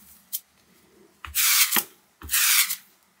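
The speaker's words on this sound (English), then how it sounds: "This is my lint roller. I'm just going to" A sticky lint roller runs over a craft mat and a dish towel, making two loud, rasping, tearing rolls in close succession, each lasting about half a second, with a few smaller clicks before them.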